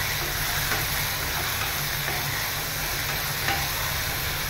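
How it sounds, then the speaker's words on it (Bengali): Water being stirred in a pan of bitter gourd chachori (uchhe chachori) gives a steady, close wash of bubbling and soft scraping that runs evenly throughout, with no talk. "তারপর এটার মধ্যে যে জলটা আছে এটা একটু নাড়াচাড়া করে"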